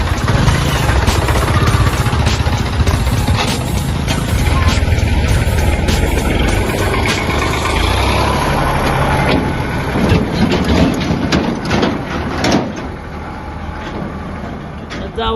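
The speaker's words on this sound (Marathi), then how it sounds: "लाव ट्रॅक्टर" A tractor engine runs at idle close by, a loud, steady diesel rumble and rattle that continues throughout while people talk over it.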